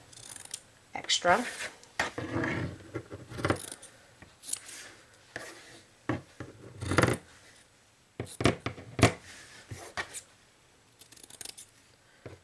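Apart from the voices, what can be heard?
scissors trimming fabric corners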